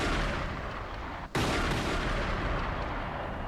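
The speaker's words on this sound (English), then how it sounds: "Outside, the police hear gunshots." Gunshots outside an embassy during a hostage siege: loud, dense bursts of gunfire filling the whole clip, with a brief dip before a sharp renewed blast, no voices.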